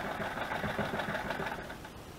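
Sewing machine stitching a seam, a continuous fast mechanical whir and rattle at moderate volume, close and unbroken, with no talking.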